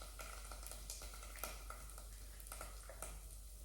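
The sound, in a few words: curry paste frying in a pan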